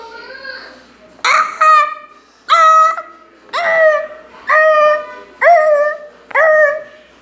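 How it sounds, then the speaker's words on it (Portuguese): Pop it fidget toy pressed repeatedly, letting out strange squeaky, whining cries that sound almost like a dog howling, seven separate drawn-out squeals in an uneven rhythm, close and loud, with no talk. "meu Poppet faz barulho estranho, então eu vou mostrar para vocês"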